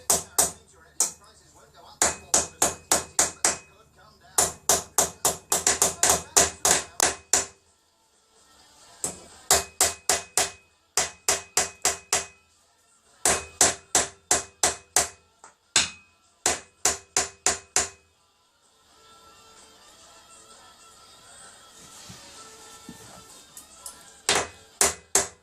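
Steel hammer blows seating a steering head bearing on a Triumph Bonneville America motorcycle, loud close ringing strikes in fast bursts of four to eight with short pauses, separated by a stretch of quieter workshop rustle.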